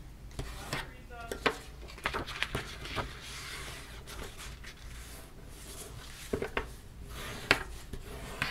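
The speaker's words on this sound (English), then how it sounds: "Again, I'm going to burnish all of our score lines." A tool is burnished along score lines on paper for a handmade mini album, making close, soft scratchy rubbing strokes in irregular short bursts with a few light taps.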